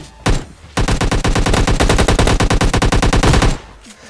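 Automatic gunfire in the mobile game PUBG Mobile Lite: a single loud shot, a short pause, then a long rapid burst of fire lasting nearly three seconds before stopping abruptly.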